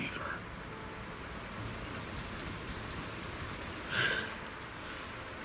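Steady rain falling in Zenless Zone Zero, a dense even hiss of drops on surfaces that fills the scene, with a brief brighter splash or gust swelling near the end.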